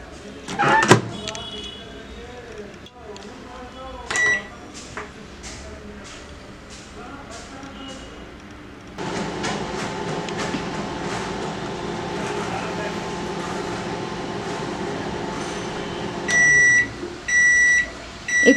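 A microwave oven bakes a cake rusk with a low steady running hum that becomes louder partway through, while short electronic beeps sound near the start and again toward the end.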